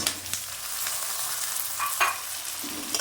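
Boiled potatoes are stirred into onion and ginger frying in a pan, a steady close sizzle broken by a few scraping spoon strokes, with no talking.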